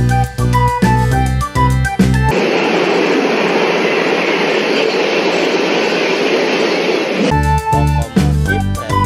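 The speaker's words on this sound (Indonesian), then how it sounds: "Lokomotif kereta" A toy express train locomotive gives off a loud, steady rumbling run lasting about five seconds, set between bursts of bright electronic toy melody before and after.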